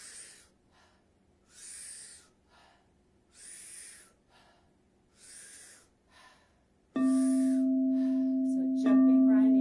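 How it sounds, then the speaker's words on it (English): Wim Hof style breathing during a yoga session: four or five powerful, rushing inhales with soft exhales, close and rhythmic. A sustained tone enters near the end. "Powerful inhale, soft exhale."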